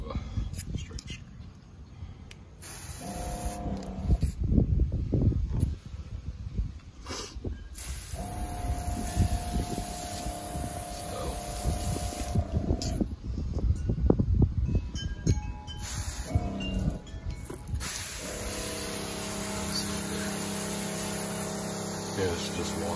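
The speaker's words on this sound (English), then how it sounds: "See how fast it sprays out there." A homemade electric sprayer pump forces water out in hissing bursts, with steady pump hum between and beneath them. Someone talks intermittently over the spray.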